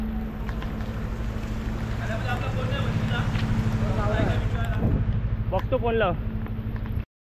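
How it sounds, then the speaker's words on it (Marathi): Strong wind sweeps through a village road in Khed, roaring steadily as it buffets the microphone, while people talk briefly over it. "बघा मित्रांनो एवढा वारा आलेला ना"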